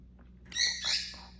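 Pet bird chirping indoors, a few quick high tweets close by, brief and fairly faint against a quiet room.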